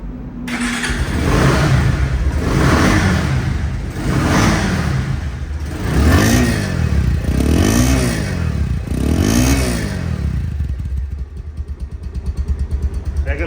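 A second-hand motorcycle with about 700 km on it, double disc brakes and ABS, revs repeatedly in loud surges, rising and falling in a steady rhythm for several seconds before settling to idle.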